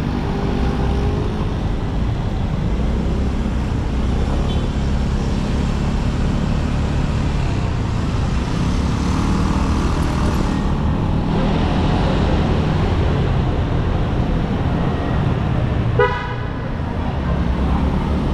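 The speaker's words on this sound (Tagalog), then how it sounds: "Grabe, sobrang traffic." Heavy road traffic with a steady roadway rumble throughout, car horns tooting at points, and one brief sharp horn blast near the end, loud and close.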